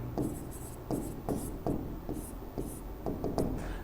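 Chalk or marker strokes on a board during a Class 11 physics lesson on the equations of motion, a steady series of short scratchy writing bursts with brief pauses between them, close and fairly quiet, no talking.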